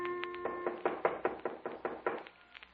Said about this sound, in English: there was a knock on the door